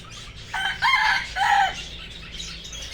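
Caged fowl call out in a few loud, overlapping squawks and crowing notes over a low hum, nearby, with no speech.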